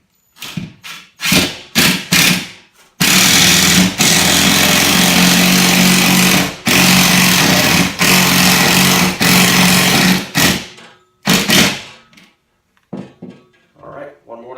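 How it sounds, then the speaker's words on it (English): A cordless impact driver runs in several bursts as it drives a screw into sheetrock for an electric garage heater mount, a long loud buzzing run in the middle with short hammering pulses before and after, close up. "then I'm going to drive it in with an impact driver"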